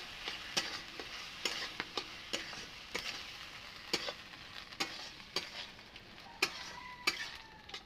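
Ground spices, including coriander powder, sizzle steadily in a hot pan, with sharp scraping clicks as a spoon stirs at irregular intervals, close by and no talking.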